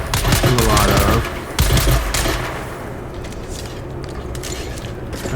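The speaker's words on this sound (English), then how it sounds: "I'll also do some shooting, which I don't do a lot of." Dune Awakening game gunfire, a loud burst of rapid shots with mechanical clatter for the first second and a half, then a lower continuous rumble and ambient noise.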